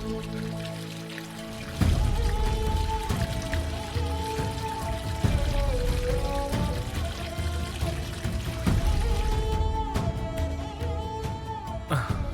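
Water poured over someone's feet in an indoor domestic scene, a steady splashing pour under a loud bed of music with sustained tones throughout.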